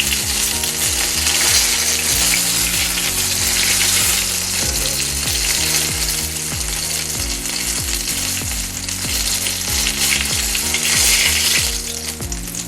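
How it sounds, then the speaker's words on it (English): Chimichangas fry in hot oil in a skillet, giving off a steady, loud sizzle that runs throughout, with a rhythmic musical pattern underneath and no talking. "then we're frying it basically, so we can put it in our skillet and make it into chimichangas."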